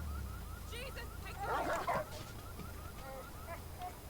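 A dog barks in a video game arena fight, a few yelping barks at mid distance over game noise, with a voice alongside.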